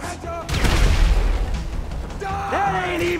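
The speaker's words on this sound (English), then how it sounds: "let's grenade launcher that guy" Grenade launcher blasts and gunfire in GTA 5: a heavy booming explosion with rumbling low end, followed by continued loud crackling gunfire and in-game voices and sounds over the top.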